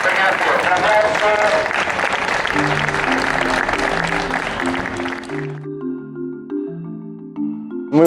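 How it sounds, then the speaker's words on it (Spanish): Audience applauding at a historical reenactment awards event in Coruña, a dense wash of clapping for about five seconds that fades out, with sustained music notes entering beneath and carrying on alone afterward. "Un aplauso"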